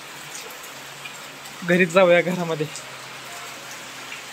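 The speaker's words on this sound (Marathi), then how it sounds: "मोठा चांगला बऱ्यापैकी चांगला पाऊस पडतोय" Steady, moderate rain falls with no wind, a constant soft patter that continues while a voice speaks briefly partway through.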